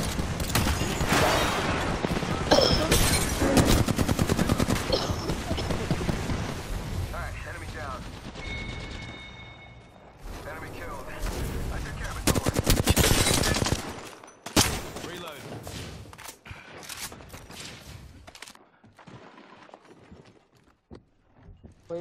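Rapid bursts of gunfire from a shooter video game, loud, dense volleys that come and go, with brief quieter gaps and a few sharp single shots near the end.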